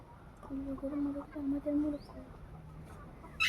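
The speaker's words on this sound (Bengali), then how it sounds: "মোরগ" A rooster clucks in a short run of low, repeated calls across the middle of the clip, fairly close, with a faint background hum and a brief sharper sound at the end.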